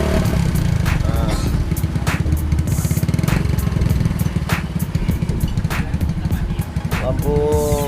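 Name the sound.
Honda Win motorcycle engine running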